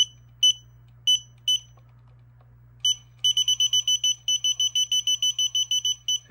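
Short electronic beeps from an anti-spy detector picking up AirPods, first in scattered pairs, then a fast steady run of high-pitched bleeps, clear and close with a low hum beneath.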